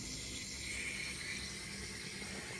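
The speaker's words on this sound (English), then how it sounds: "It's too high and the water is leaking here." Water runs steadily inside a Kohler toilet tank where the water level sits too high and leaks. It makes a constant close hiss and trickle, with no talking.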